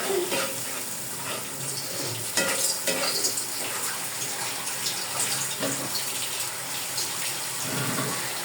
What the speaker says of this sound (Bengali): মশলাটা কষানোর জন্য দিয়ে দেবো একটু পানি।